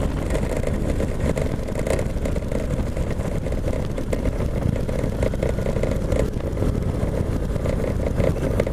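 A 2017 Indian Chieftain Limited motorcycle cruising at speed, its steady engine drone close and loud, mixed with constant wind rush and no voices.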